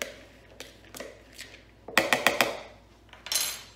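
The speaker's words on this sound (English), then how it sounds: "And we can give that a bit of a stir up." A spoon clinks and scrapes against a bowl while sweetcorn mixture for savoury muffins is stirred, a few separate taps followed by a quick run of knocks, close and clear.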